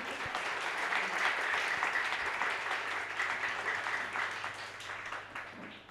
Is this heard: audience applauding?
yes